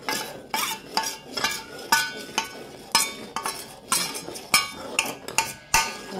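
A sauce stirred in a pan as cornflour and tamarind juice go in, with scraping spoon strokes and light metallic clinks repeating in an irregular rhythm, close and fairly loud.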